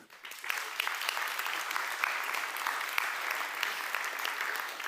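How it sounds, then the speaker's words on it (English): Audience applause at a software technology conference, a full and steady patter of many hands clapping that rises quickly after a brief quiet start and stays even to the end. "the applause is for you"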